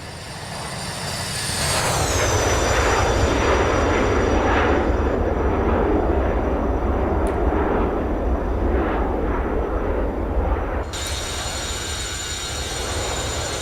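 A FlyJSim Boeing 727 jet in a flight simulator roars past in a flyby, engine noise swelling to a loud sustained rush with a high whine, then dropping away as the aircraft passes.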